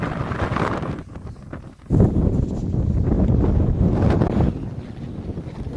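Strong wind roars and buffets the microphone on a Colorado mountain summit above 13,000 feet in winter, a loud continuous rush that briefly drops before gusting back hard.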